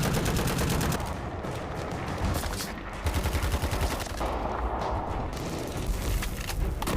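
Dense, sustained gunfire roars throughout as special forces and a sniper fight terrorists, with rapid overlapping shots and bursts forming a loud, continuous barrage with no gaps and no voices.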